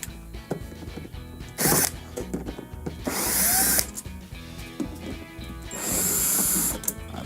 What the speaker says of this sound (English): we are going to start by removing the 6 T20 screws along the sides here on the panel.